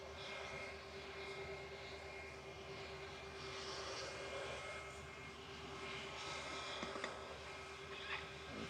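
A Turkish Airlines Airbus A321 taxis at Manchester Airport, its engines producing a steady, continuous whine and rumble at moderate distance, unbroken across the whole stretch.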